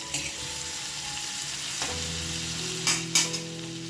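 Tomatoes frying with garlic and green chillies in a pan give a steady close sizzle, joined by a few scraping stirs and clinks of a spoon toward the end.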